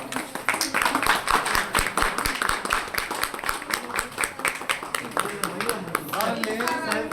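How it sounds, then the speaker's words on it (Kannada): A crowd claps rapidly and steadily at an event in Kalaburagi where a stolen newborn was handed back to its mother, with people talking and calling out over the applause. "ಚಪ್ಪಾಳೆ"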